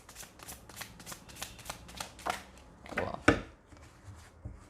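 Tarot cards are shuffled and drawn up close: quick, even riffling bursts build toward a few louder snaps as cards are pulled, then fade to quiet.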